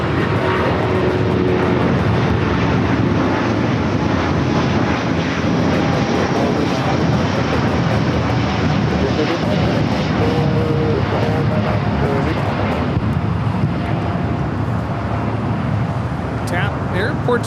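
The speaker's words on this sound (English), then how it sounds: "TAP Air Portugal, flight 248, taking off to Lisbon on the A330 NEO with the 75-year sticker." A TAP Air Portugal Airbus A330neo takes off at LAX, its engines a continuous loud roar and rumble that holds steady throughout, with a voice talking over it.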